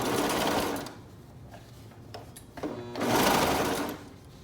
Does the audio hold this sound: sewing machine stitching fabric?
yes